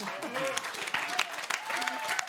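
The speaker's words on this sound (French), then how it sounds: "Et vous applaudissez en plus." A studio audience on a French TV dating game show applauds in a steady wash of claps, with a voice and some musical tones running over it.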